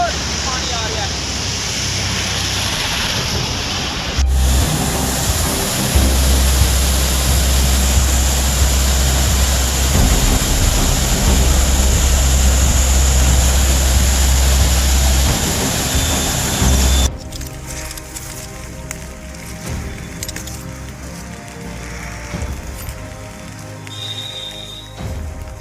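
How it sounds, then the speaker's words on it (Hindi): Floodwater rushes in a loud, constant, close roar with heavy wind buffeting on the microphone. It drops to a lighter, rougher wash partway through, and a voice may be faintly present. "बहुत पानी आ रहा है"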